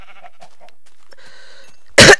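Sheep in a Minecraft game bleat in a few short wavering calls, followed by a loud, sudden burst of noise at the end, with no talk.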